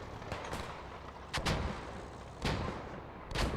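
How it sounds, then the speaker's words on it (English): Mortar shells and bombs burst across a battlefield in the video game Post Scriptum, several sharp booming blasts at uneven intervals over a constant low combat rumble. "Mortars shelling on both sides. Bombing runs coming in."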